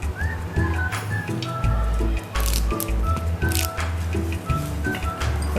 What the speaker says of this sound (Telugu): కొంచెం డ్రై అయ్యేలాగా ఆయిల్ వేయకుండా వేస్తున్నాను.